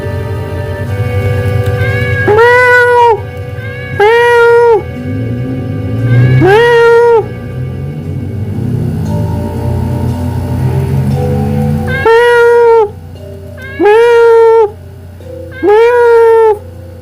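Video game cats meowing in a Touhou fangame, loud drawn-out meows repeated in clusters of two or three with pauses between them, alone without talk.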